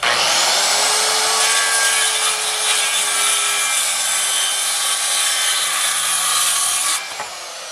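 A power saw cuts steadily through a wooden board on a homestead, a loud sustained whine with rough grinding that holds for about seven seconds before stopping abruptly and leaving a faint hum.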